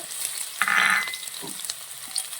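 Garlic dropped into hot oil to start a chicken dish gives a short, sharp burst of close sizzling that quickly eases into a softer crackle with light stirring.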